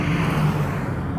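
Mercedes-AMG GT Black Series with a twin-turbo V8, a steady low droning engine note with a dull, muted tone, heard briefly and closely with no talking.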